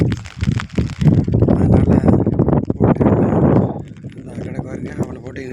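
Strong wind buffets a fishing harbour entrance while rain falls during a storm, a loud continuous roar and rumble against the microphone, with someone speaking over it throughout.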